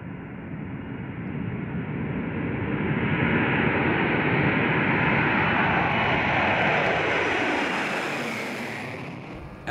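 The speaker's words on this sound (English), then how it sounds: "At the fire, the Global Supertanker can slow to 268 kilometers per hour, or about 145 knots." A Global Supertanker firefighting aircraft, a converted jumbo jet, roars past at low altitude and slow speed, a loud broadband jet rush that swells and sweeps across the whole pass, no voices.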